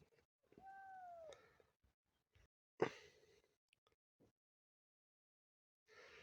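A thin, high kitten meow rises and falls once, fairly quiet, followed by a brief breathy rustle and then near-silence.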